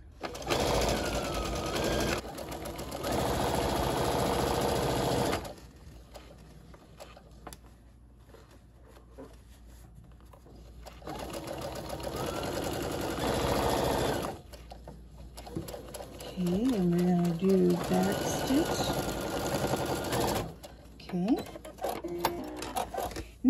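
Home sewing machine stitching a ruffled Christmas half apron, running in three long bursts of rapid steady whirring separated by quiet pauses, close by, with talk heard between runs.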